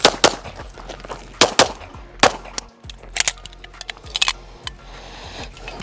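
Rapid pistol shots during a 400-round speed training session on alpha targets with a Gibson Custom, sharp loud cracks fired in quick bursts with brief gaps between strings.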